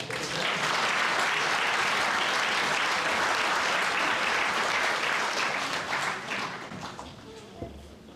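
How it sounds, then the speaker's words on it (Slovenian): A crowd claps in sustained applause for a folk dance group at an anniversary show, staying loud, then thinning and fading out over the last couple of seconds. "Dajmo en aplavz za njih."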